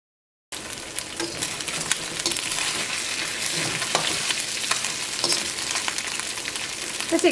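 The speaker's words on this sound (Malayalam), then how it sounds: "ഇനി ചിക്കൻ വറുത്തെടുക്കുക" Chicken pieces deep frying in hot oil give a steady, dense sizzle that starts abruptly after a brief silence and continues evenly with small crackles for about seven seconds, close up and without talk.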